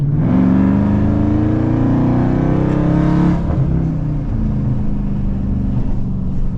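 A tuned 924-horsepower Dodge Charger Hellcat with a Demon package accelerating hard, its loud close engine roar rising in pitch, then dropping on a crisp gear shift and pulling again.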